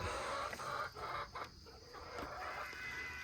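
Chickens clucking and squawking as a backyard coop door opens, a busy overlapping chorus of hens close by with no talking.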